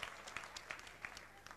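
Audience clapping at a Jain religious discourse gathering honouring a guest, a quiet, distant patter of applause with scattered sharper claps, fairly faint throughout.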